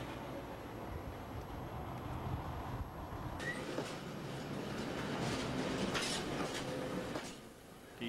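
Freight wagons move through an Irish Rail yard at Dundalk with a steady, distant rumble of rolling stock and a faint metallic rattle, fairly quiet and with no voices.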